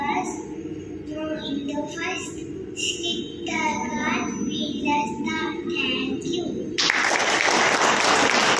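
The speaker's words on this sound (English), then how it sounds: "A round of applause for her." Applause from an audience at a kindergarten (LKG) class presentation, sustained clapping under ongoing speech through most of the stretch, then swelling into a louder, denser burst of clapping near the end.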